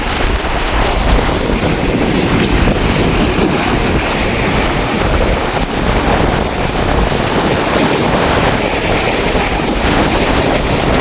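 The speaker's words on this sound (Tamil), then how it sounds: "காற்று நல்ல வேகமாக தான் அடிக்குது அலையே பாருங்கள் எப்படி பயங்கரமாக இருக்குன்னு" Stormy coast at Keerimalai under a red warning: loud, continuous roar of big waves crashing with strong wind blasting the microphone, a dense unbroken wash of noise throughout and no voices.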